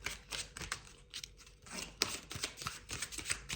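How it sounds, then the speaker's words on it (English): Tarot cards being shuffled by hand at close range, a steady run of soft papery riffles and slaps with brief crisp flicks, fairly quiet and without talk. "I'm going to keep shuffling."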